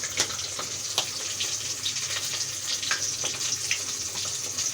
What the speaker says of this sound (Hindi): अब जो इसमें घी में ही ये पक रही है